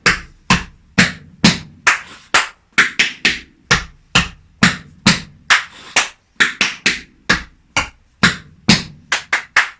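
Metal taps on tap shoes rattle through shuffle steps in a beginner-to-intermediate tap dance class, a steady run of crisp, close, loud heel and toe strikes in quick pairs with no voices.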